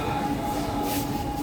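Steady rumble of a Chennai metro train interior with a persistent tonal hum near one pitch, continuous and fairly close, without any clear speech over it.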